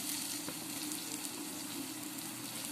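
Chili powder sizzles in hot oil in a pan while a drumstick curry cooks, a quiet, steady crackling hiss.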